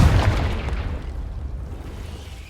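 A Confringo spell in Hogwarts Legacy erupts as a loud, close fiery blast, with a booming burst at the start that rumbles and fades away over the next two seconds.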